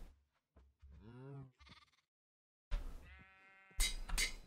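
A Minecraft sheep bleats in several short, wavering calls, clear and close, separated by gaps of silence, with no voices over them.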